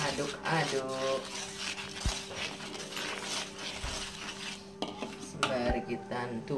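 Utensils scrape and clink against a pan in a steady stirring rhythm while cooking curly chili peppers for tempe with salted squid in soy sauce, with a soft sizzle underneath and occasional sharper knocks of metal.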